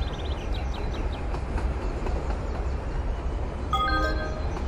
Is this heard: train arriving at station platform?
yes